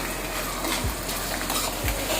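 Green garlic tempering in hot oil while a rustic fried rotla is prepared makes a soft, continuous sizzle, with a couple of faint stirring scrapes and no talking.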